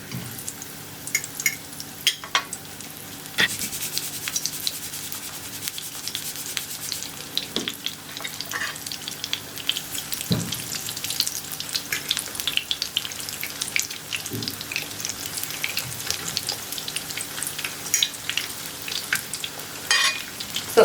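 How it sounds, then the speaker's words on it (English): Sliced arrowroot frying in oil that is not yet very hot makes a soft, steady crackle, with occasional clicks and light knocks of a utensil over about twenty seconds. Nobody speaks. "I'm just gonna fry them. The oil isn't hot enough, so I just basically fry them."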